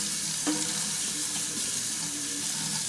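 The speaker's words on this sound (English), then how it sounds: "Turn on the water" Water pours steadily from a kitchen tap over a soapy spatula held under the stream, a constant close rush with faint clinks mixed in and no talking.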